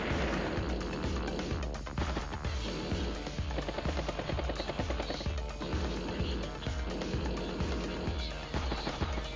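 Battlecopter helicopter unit in the Advance Wars: Days of Ruin strategy game, a steady rapid rotor chop pulsing loudly and continuously under dense game music and effects.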